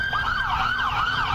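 An emergency vehicle siren wails in a rising and falling pattern, clear and moderately close, with a faint traffic rumble beneath.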